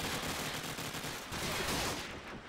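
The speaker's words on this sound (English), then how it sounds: "Sends out a couple of warning shots." Gunshots in a video game, warning shots from a scoped rifle amid dense, continuous gunfire, loud and close, in a rapid burst without speech.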